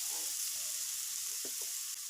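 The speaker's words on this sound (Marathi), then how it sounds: "आता आपल्याला हे मिश्रण व्यवस्थित पद्धतीने कढईमध्ये भाजून घ्यायचं आहे" A spice mixture for egg curry roasts in a kadhai with a soft, continuous sizzle and hiss, broken by a couple of faint scraping stirs near the middle.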